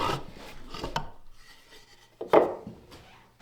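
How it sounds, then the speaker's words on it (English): Sandpaper rubs a tight-fitting wooden drawer in a few front-and-back passes, giving raspy scraping strokes: two close bursts, a quiet gap, then a louder stroke near the end. "The second try looks way better after a few front and back sanding passes."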